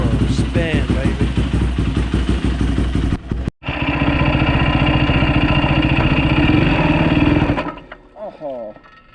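A motorcycle with a melted clutch line idles loudly and close with a lumpy, pulsing rhythm, cuts out briefly, runs again, then dies away into quiet near the end as people talk.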